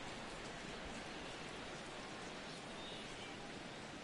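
Steady rain falling on a ballpark in the baseball video game MLB The Show 17, Phillies at the Angels: a soft, even hiss that continues unbroken with no talk.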